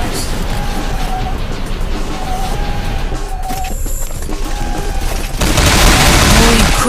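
Enemy gunfire in the video game Killer Is Dead, dense rapid volleys of shots and booms over loud, continuous game noise, ending in a heavier burst.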